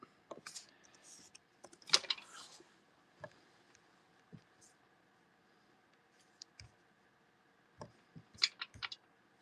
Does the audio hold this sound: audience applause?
no